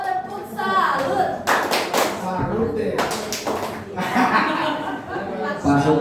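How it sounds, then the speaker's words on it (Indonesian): A group of teachers at a school workshop performs a tepuk salut clap routine, striking loud, rhythmic bursts of hand claps in set patterns. Voices and light laughter come between and under the claps. "Oke, tepuk tangan dong."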